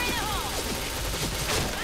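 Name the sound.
gunfire in a video game shooter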